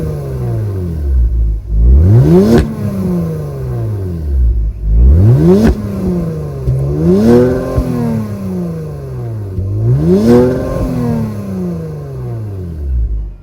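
A 2025 Genesis G70 3.3-liter twin-turbo V6 with active exhaust revs four times, each throttle blip rising sharply then falling back toward idle, loud and close with no talking.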